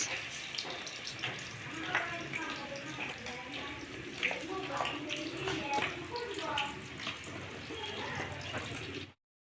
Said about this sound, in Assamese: মাছ ফ্ৰাই।